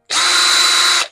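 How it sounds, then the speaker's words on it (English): A single loud, steady burst of a power drill spinning a combined countersink and drill bit into a desk for about a second, close up, then cutting off. "I'm using countersink and drill in one"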